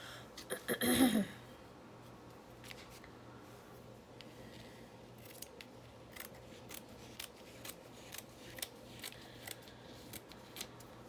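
Scissors trim paper for a junk journal, starting with a quick flurry of close snips and then settling into a steady series of light, separate cuts spaced about a second apart in a quiet room.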